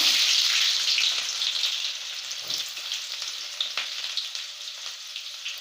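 Fenugreek seeds and shallots frying in oil for traditional kara kuzhambu, a bright dense sizzle that is loudest at the start and then settles to a steady hiss, with a few soft spatula scrapes, close and without speech.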